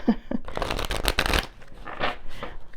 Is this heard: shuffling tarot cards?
yes